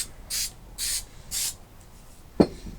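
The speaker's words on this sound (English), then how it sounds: "So you have to spray it on and let it dry." Three short bursts of 3M Super 77 contact cement spray hiss in an even rhythm, close and loud, followed by a single soft knock.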